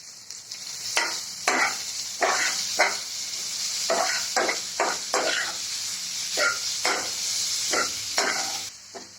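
Vegetables for homemade chowmein noodles are stirred with salt in a hot pan, with bursts of spatula scraping coming in an uneven rhythm over a steady, bright sizzle. No one speaks.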